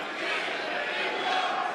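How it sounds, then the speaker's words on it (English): Wrestling arena crowd at WWE Raw chanting for Big E, a dense, loud wash of massed voices that fills the whole stretch without a break. "Great move on the crowd to switch the legendary chant from New Day Rocks to Big E Rocks"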